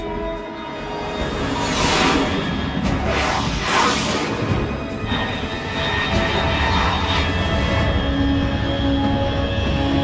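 A fast unidentified aircraft from Metal Gear Solid 3 flies overhead, a loud sustained engine roar with rising whooshing swells that stays steady and close throughout, no voices.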